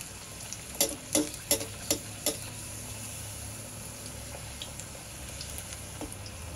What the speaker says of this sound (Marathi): आता आपण पुरी तळायला घेऊया.